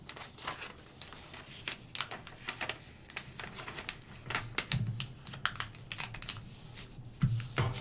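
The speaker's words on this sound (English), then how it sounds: "then finally we will fold down each wing, fold down the sides" Sheet of paper being folded into a basic paper airplane, giving a run of soft crisp creasing and crinkling rustles in irregular bursts, close and fairly quiet, with no talking.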